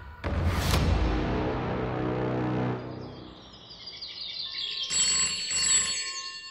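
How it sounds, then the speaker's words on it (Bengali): A telephone rings in an audio drama, a loud, close jangling bell that stops abruptly, followed by quieter sounds and brief chirping tones that may be the receiver being picked up. "ফোনটা বেজে উঠল আর আমি রিসিভারটা তুললাম।"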